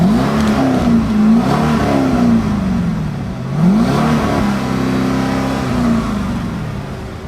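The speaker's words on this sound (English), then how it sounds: "give it a couple revs" Cadillac CTS-V engine blipped through its exhaust in a couple of rising and falling revs, loud and close, with a steady idle burble between; the rev limiter holds it back while the engine is cold.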